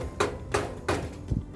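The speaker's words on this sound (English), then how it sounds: "just gotta hammer it down a little bit." Four sharp hammer strikes ring out on a concrete bench form as a corner is knocked down, evenly spaced and close up, the last one slightly duller.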